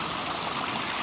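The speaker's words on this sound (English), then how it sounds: "we've got these beautiful waterfalls that we've chosen to show you." A garden waterfall flows steadily beside a koi pond filtration setup, a constant broad rushing wash of water, close and even, with no voices.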